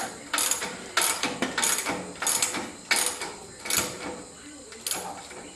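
A ratchet wrench tightens a rear suspension bolt with a flat on one side and a knurled end on the other, producing repeated bursts of close, crisp ratcheting clicks at a steady rhythm.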